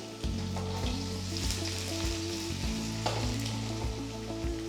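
Finely chopped ginger, garlic and a fresh red chilli fry in hot oil in a pan for egg noodles, a close, lively sizzle with crackles and repeated scraping stirs of a utensil.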